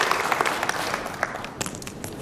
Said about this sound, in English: Can we all applaud for each one of our presence in this room?